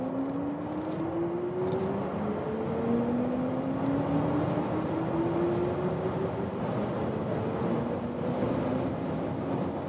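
A premium SUV in sports mode accelerates hard from 100 km/h, its engine note climbing steadily in pitch over a constant roar of wind and road noise, heard from inside the cabin without talk.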